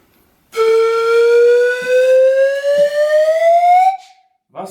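A single sustained flute-like tone, slowly gliding a little higher over about three seconds, clear and fairly loud, with no voices.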